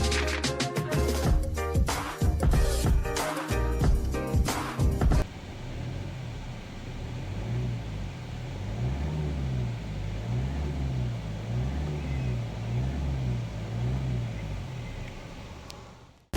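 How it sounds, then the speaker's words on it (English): A 2021 Hyundai Verna diesel engine revs in a loud rhythmic burst, then settles into a steady idle with a pulsing low hum inside the cabin. "Now let me rev the engine and show you the display animation in the instrument cluster."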